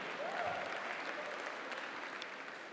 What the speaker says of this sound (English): That got applause.